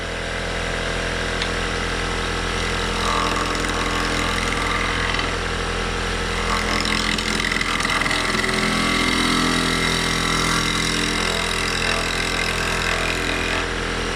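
A machine tool spindle spins at about 2500 rpm while cutting metal into shavings, a loud, steady motor drone with a continuous grinding, whining texture that swells slightly midway, with no talking.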